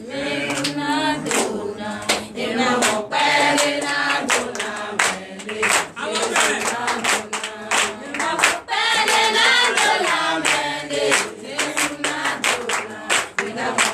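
Church congregation at a Sunday worship service clapping in rhythm, with loud sung or shouted voices over the sharp hand claps.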